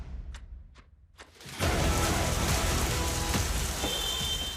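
Heavy, continuous monsoon downpour during widespread flooding, a dense steady roar of rain that starts after a few faint brief ticks and then stays loud and unbroken to the end, with no talk.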